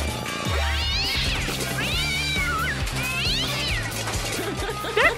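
A video game cat meows repeatedly, long sliding high-pitched cries close and loud, three or four drawn-out calls over continuous game music with no talking.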